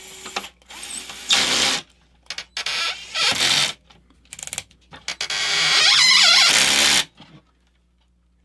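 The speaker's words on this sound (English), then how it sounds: "Sounds like I'm cross-threading it" A screw being driven into a radio-controlled model and cross-threading. It gives bursts of loud, scratchy, grinding ratchet-like noise, separated by short pauses, with one longer steady grind near the end, all close up.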